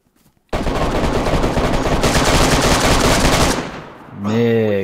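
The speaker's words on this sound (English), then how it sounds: "They shooting way too much" Dense, continuous automatic gunfire from a shoot-out in the DayZ video game near Berezino, loud and sustained for several seconds, then cutting off into a short lull with a voice at the end.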